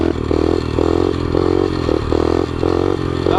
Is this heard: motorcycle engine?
yes